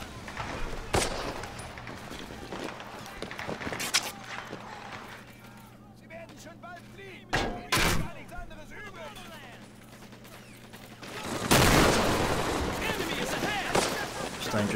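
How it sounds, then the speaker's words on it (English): Several sharp booming blasts of mortar fire in the game Men of War, at Carentan, spaced irregularly over a steady low hum, with a loud burst of noise near the end. "The mortars are firing back."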